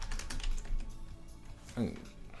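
Quick clicks on a computer keyboard, loose and uneven, sit fairly low in the mix under a hum of background noise, and a burst of louder keystrokes comes near the end.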